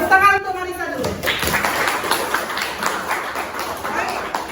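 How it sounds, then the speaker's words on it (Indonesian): A classroom of students claps for a classmate, a dense spread of hand claps running steadily for several seconds after a short spoken line from the teacher. "Tepuk tangan untuk Marisa dulu."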